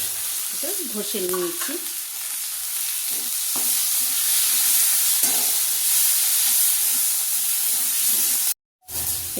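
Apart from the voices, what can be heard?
onion and spices sizzling while frying in oil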